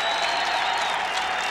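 Crowd of more than 5,200 cheering and applauding at a Syracuse versus Virginia college lacrosse game in the Dome, a dense continuous roar with whistles rising over it, heard alone throughout.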